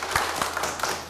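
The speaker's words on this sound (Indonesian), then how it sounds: "Tepuk tangan." Brief burst of audience clapping at an Indonesian community event, greeting a doctor introduced on stage, moderately loud and continuous, with a few distinct hand claps standing out.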